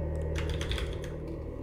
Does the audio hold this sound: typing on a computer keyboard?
yes